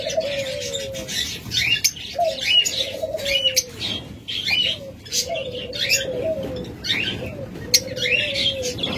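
Caged lovebirds chirp and twitter in quick bursts, with several birds calling over one another in a busy, close, continuous chatter.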